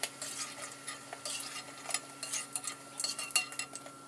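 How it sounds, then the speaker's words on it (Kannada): Onion manchurian balls deep fry in hot oil in a home kitchen, with soft sizzling broken by light clinks and scrapes of a ladle stirring in the pan, quiet and close. "ಅಲ್ಲಿವರೆಗೂ ನೀವು ಚೆನ್ನಾಗಿ ಇದನ್ನು ಡೀಪ್ ಫ್ರೈ ಮಾಡ್ಕೊಬೇಕು"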